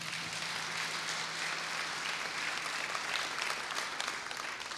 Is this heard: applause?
yes